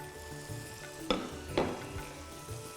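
Pieces of yam (bande) fry in a spiced masala with a low continuous sizzle, while a couple of louder utensil scrapes and clinks stir the pan close up.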